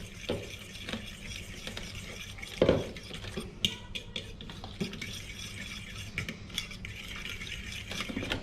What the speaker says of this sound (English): Now just get a fork and stir those in